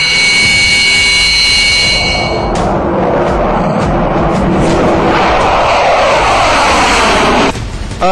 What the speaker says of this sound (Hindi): रशियन एयरफोर्स के जो Su-30 MK2 लड़ाकू विमान है, इस तरह के वो विमान है।